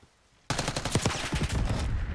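Rapid gunfire from Black Ops 6, loud and close, bursting in after a brief near-silence and continuing as a dense run of shots to the end.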